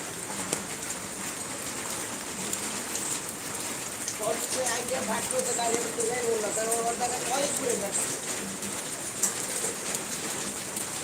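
Rain pours steadily onto a flooded street in Dhaka, a dense, even hiss throughout, with pigeons cooing faintly and indistinct voices in the background.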